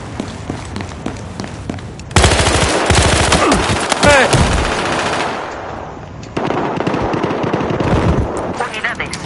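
Bursts of automatic gunfire and scattered shots in online multiplayer Battlefield Hardline, loud and dense, dropping off briefly then resuming, with players talking over it.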